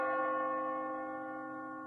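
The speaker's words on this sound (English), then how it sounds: "As the bell sounded the hour," A single church-type bell tolls once, its long ringing tone already sounding and slowly decaying, with clear layered overtones and no other sounds around it.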